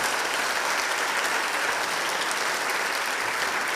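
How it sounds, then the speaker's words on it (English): Sustained applause from a large crowd at a VEX Robotics competition, dense and steady clapping at even loudness throughout without pause. "Big round of applause for that"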